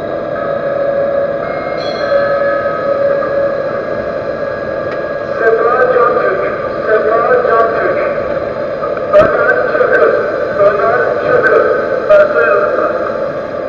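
A lathe turns HSS steel at low spindle speed with light cuts, a steady mechanical whir and faint scraping of the tool, with someone talking over the machine.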